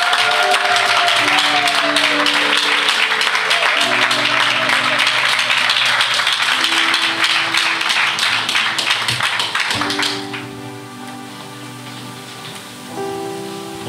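An audience applauds and cheers to welcome a pastor at a church gathering, a dense loud clatter of clapping over music that drops off after about ten seconds, leaving the music playing.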